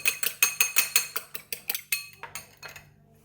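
Egg whisked with a pinch of salt in a bowl, a quick series of about a dozen bright clinks of utensil against the bowl in a steady rhythm that slows and fades at the end, close and alone.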